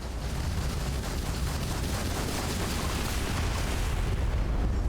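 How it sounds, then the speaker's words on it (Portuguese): Dense, sustained gunfire from a ship's weapons in the Starfield video game, a continuous loud rattle of rapid shots and booming impacts filling the whole stretch with no talking. "Olha os tiros do bagulho."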